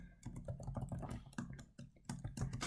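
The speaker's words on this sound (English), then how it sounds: "In the brackets we type in the prompt" Someone types a prompt on a computer keyboard while writing Python code, quick irregular bursts of close, soft key clicks with brief pauses between them.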